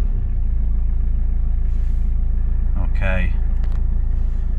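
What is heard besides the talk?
Mitsubishi Chariot 4D68T engine starting and idling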